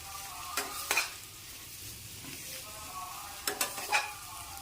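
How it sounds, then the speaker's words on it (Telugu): A frying pan of egg and garlic masala with coriander being stirred, sizzling steadily with a few sharp scrapes and knocks of the spoon, close and with no talking. "కొత్తిమీర వేసేసుకుని మళ్ళీ ఒకసారి తిప్పుకున్నాం"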